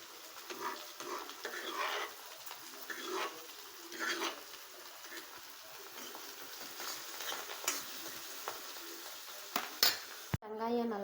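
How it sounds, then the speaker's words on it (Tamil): Onions sautéing in oil in a pan for a rocky-fish curry, with soft sizzling under frequent clinks and scrapes of a spoon against the pan, fairly quiet and close, ending with a sharp knock. "வெங்காயம் நல்லா பொன்னிறமாக வணங்கணும்"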